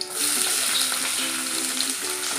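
Onions hit a pan of frying garlic, setting off a loud, dense, continuous sizzle close up.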